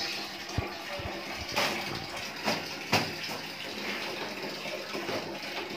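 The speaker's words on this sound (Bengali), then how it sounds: "চলে আসলাম কাপড় ধুইতে, কাপড় ধোয়ার জায়গা।" Water runs steadily from a tap during clothes washing, a continuous hiss and splash with a few brief knocks and sloshes, fairly soft and close, with no talk over it.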